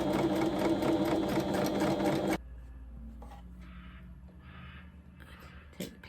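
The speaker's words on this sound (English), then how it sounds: "Now I'm on an overlocker." An overlocker stitches fabric for a dressmaking pattern with a fast, loud, steady whirring for about two seconds, then stops abruptly, leaving a quiet room with a few soft clicks and handling noises.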